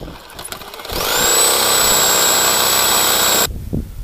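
An electric jigsaw cuts firewood, starting up after a second into a loud, steady high-pitched whine with buzzing reciprocating rattle, running continuously for over two seconds before cutting off abruptly, leaving quieter background clatter.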